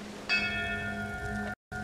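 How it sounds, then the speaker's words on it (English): A bell rings once in the video game Downward, a bright struck tone that sustains with steady harmonics for over a second before cutting out abruptly, with no talk over it. "Is that a bell? That's a bell."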